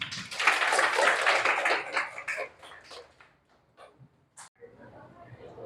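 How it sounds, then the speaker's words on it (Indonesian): A short burst of classroom applause from students, loud at first and then quickly thinning out into a few scattered claps, with speech following. "Beri tepuk tangan."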